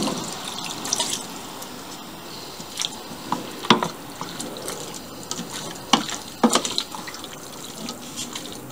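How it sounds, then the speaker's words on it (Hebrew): Tap water runs into a pot of chicken breast, chickpeas and sweet potatoes in tomato sauce, a steady close splashing and gurgling stream with occasional sharper clinks, without any talking. "עכשיו אני מוסיפה מים"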